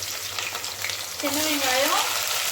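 Small shallots hit hot oil already spiced with stone flower and star anise, giving a steady loud sizzle that swells partway through and carries on with stirring scrapes.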